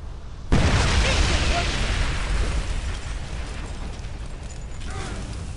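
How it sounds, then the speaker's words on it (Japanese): A loud explosion in the video game Homefront, a sudden booming blast that leaves a long rumbling roar of debris and fire, with voices faintly underneath. "なんだかわからないうちに爆発して終了。"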